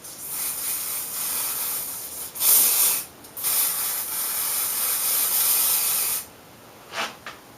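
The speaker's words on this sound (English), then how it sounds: "just spray that all in your hair as well" Aerosol hair spray hissing onto hair in bursts, several seconds of continuous spraying broken by short pauses, then two brief final puffs, close and steady with no talking.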